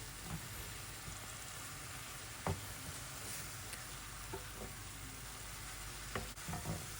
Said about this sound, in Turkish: Güzelce soğanlar her tarafa yayılacak şekilde iyice karıştıralım arkadaşlar